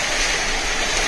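A motorboat moves along a river, its hull sending up a loud, continuous rush of water close by.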